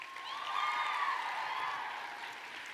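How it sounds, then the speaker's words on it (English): An audience at a young women's leadership summit applauds, the clapping blending with a smooth cheering crowd roar that swells and then fades slightly. "Y'all give yourselves a round of applause."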